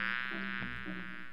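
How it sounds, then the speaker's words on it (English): Near and loud, a bee buzzes in a continuous droning hum around flowers outdoors, steady with slight wavering in pitch, no talk over it. "I hear a bee."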